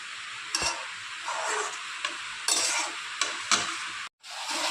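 Morola fish with mixed vegetables and spices fries in a pan, a continuous sizzle broken by several sharp scraping stirs of a utensil against the pan, close and alone.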